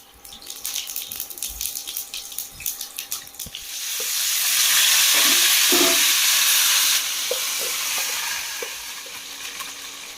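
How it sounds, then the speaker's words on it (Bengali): Spices sautéing in a pan for pea curry: scattered scrapes and clinks at first, then a loud, dense sizzle swells up and hisses steadily, easing slightly toward the end, with no voices. "এবার মশলা কষানো হবে"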